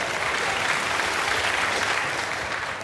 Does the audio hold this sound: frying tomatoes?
no